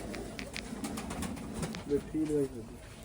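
Pigeons coo on a pigeon farm, a few soft rolling coos near the end over faint rustling and background noise.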